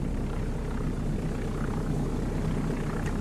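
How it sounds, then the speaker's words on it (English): A Tiger Moth biplane's engine taxiing at Clairmarais aerodrome in the X-Plane 12 flight simulator gives a steady, loud, low droning rumble with an even propeller throb that continues unbroken, with no voices. "Let's taxi to the end of the runway."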